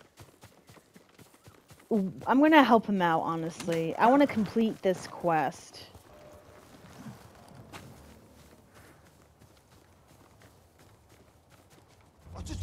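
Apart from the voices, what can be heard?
horse hooves clip-clopping in the video game Ghost of Tsushima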